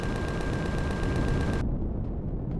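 Turret gunfire in the space survival game Empyrion Galactic Survival, a dense rapid stream of loud close shots for over a second with a steady tone beneath, then cutting abruptly to a quieter rumbling tail.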